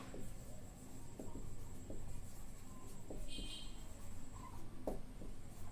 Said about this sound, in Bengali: আমি বোর্ডে লিখছি